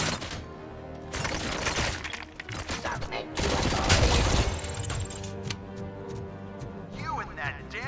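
Bursts of gunfire ring out in the video game RoboCop: Rogue City, loud clustered volleys with sharp cracks and shattering debris, broken by brief lulls, while someone talks over parts of it.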